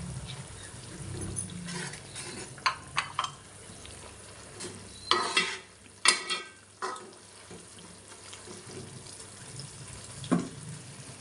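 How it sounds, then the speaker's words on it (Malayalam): Curry simmering and thickening in a pan as coconut oil is added, with a low bubbling sizzle broken by scattered utensil clinks and stirring scrapes. "ഇതുപോലെ നന്നായി തിള വന്ന് കുറുകി വരുന്ന സമയത്ത് ഇതിലേക്ക് വെളിച്ചെണ്ണ കൂടി ചേർത്ത് കൊടുക്കാം"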